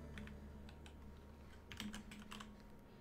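Soft, quick keystrokes on a computer keyboard in a quiet room, irregular clusters of clicks with a brief flurry near the middle, close to the microphone.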